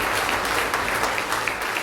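A crowd gathered at a New Year's wishes ceremony in Angresse applauds, producing dense, even clapping for the whole short stretch with no voices heard.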